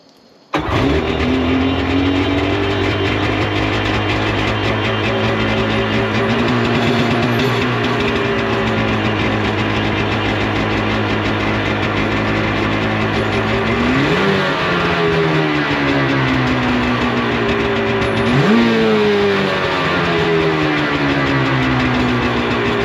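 A SeaDoo Speedster jet boat engine runs in gear and revs, a loud sustained drone that holds steady and then rises in pitch twice near the end, with no talk.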